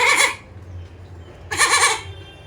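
A voice imitates a goat's bleat twice, a wavering nasal call at the start and another after a short pause, close and fairly loud over faint low background noise.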